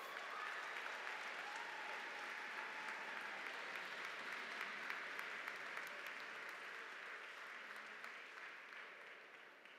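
Clapping at a university spring commencement honouring a distinguished alumni awardee, a soft, continuous applause lasting nearly ten seconds and gradually dying down, with no speech over it.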